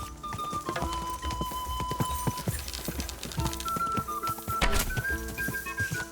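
Horse hooves clip-clop in a steady rhythm during horse archery in Kingdom Come: Deliverance II, mixed with thuds and in-game ambient sounds.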